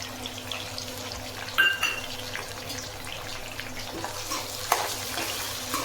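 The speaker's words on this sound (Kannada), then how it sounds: "ಇವಾಗ ಫ್ರೈ ಆಗಲಿ, ಆನಿಯನು ಟೊಮೊಟೊ ಫ್ರೈ ಆಗಲಿ" Half-fried onion and tomato frying together in a pan, a soft continuous sizzle with occasional stirring knocks and a clink of utensils, no speech.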